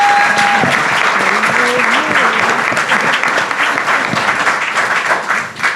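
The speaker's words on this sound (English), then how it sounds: "I think we should give them one more round of applause" Loud, sustained applause from an audience honoring women at the Clara Lemlich Awards ceremony, full-room clapping with a few voices calling out early on, tapering slightly at the very end.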